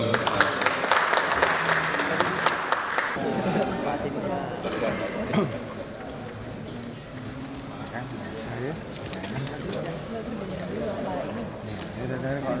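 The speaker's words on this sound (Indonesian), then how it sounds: "sekali lagi aplaus untuk Pak Gubernur" Audience applause for Governor Jokowi at a discussion on tackling traffic congestion and flooding: a loud burst of clapping for about three seconds, then fading into crowd chatter and talk.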